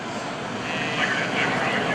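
A T-34 Mentor airplane with a Continental O-470 flat six-cylinder 225 horsepower engine drones steadily at an airshow, a loud continuous propeller engine roar heard close up.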